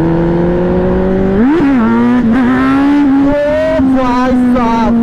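A motorbike engine revs hard during a wheelie, its pitch swooping up and then holding a high, wavering whine, loud and close throughout.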